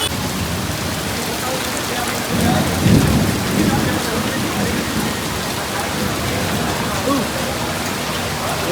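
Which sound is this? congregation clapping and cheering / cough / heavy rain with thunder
heavy rain with thunder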